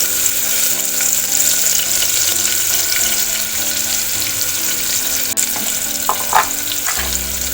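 A ground masala paste of ginger, garlic, chillies and coriander frying in a pan, giving a continuous loud sizzle with scraping stirs and a few sharp clinks near the end.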